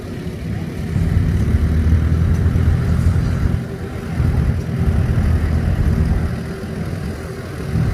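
A 1945 McCormick W9 tractor engine runs at a tractor show, a low steady rumble that swells and eases in waves, heard from moderate distance amid outdoor crowd noise.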